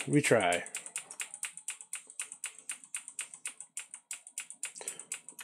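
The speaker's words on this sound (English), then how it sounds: "I understand people are hearing the clicking noise, but fuck you. I'm clicking F8 to load boot" Rapid, repeated key presses on a computer keyboard while trying to load boot on a newly built PC, a steady run of sharp close clicks, with a brief voice at the start.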